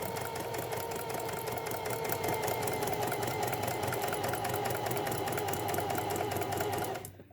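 A sewing machine runs a straight line of stitching in one continuous, loud, close whir with a fast, even mechanical chatter, then stops at the end.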